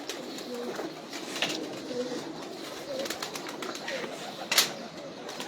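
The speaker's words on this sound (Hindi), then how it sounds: "ये दोस्तों शाह जी के उड़ने वाले कबूतर हैं" Flying pigeons of an old breed kept by a pigeon fancier coo softly on a rooftop, their low murmuring calls repeating amid steady outdoor ambience, with a brief sharper sound near the end.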